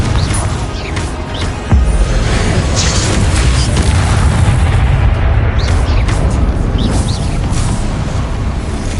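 A video game's Confringo blasting spell explodes with a heavy boom partway through, followed by sustained roaring rumble and crackling debris, loud and close over continuous low noise.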